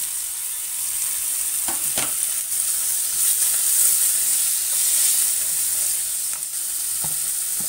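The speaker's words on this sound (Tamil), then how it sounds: "இஞ்சி பூண்டு விழுது 2 teaspoons இதோட ஆட் பண்ணி அதையும் சேர்த்து வதக்கிடுங்க" Sliced onion sizzling in hot oil in a pan with ginger garlic paste as the base for a prawn curry, a steady close frying hiss broken by a few soft stirring scrapes, with no voices.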